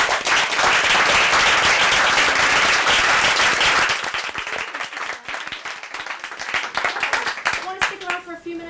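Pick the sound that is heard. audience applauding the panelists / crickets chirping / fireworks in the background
audience applauding the panelists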